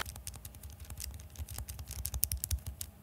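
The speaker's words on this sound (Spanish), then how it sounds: "para que escuchen el sonido que hacen los botones de la Switch Lite" Buttons on a Nintendo Switch Lite being pressed close to a microphone, giving rapid, quiet clicks in an uneven stream over three seconds with no talking.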